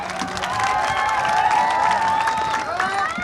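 A festival crowd at an outdoor holiday show in a Ramadi amusement park applauds and cheers a performer, with loud sustained clapping mixed with shouts and children's voices throughout.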